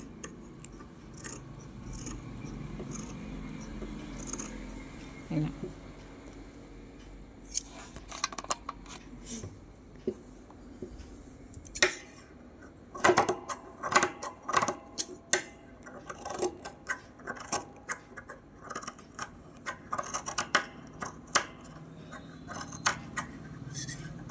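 Scissors snip notches into blouse piping fabric close up, a run of sharp metallic clicks and short cuts, sparse at first and then quicker and denser.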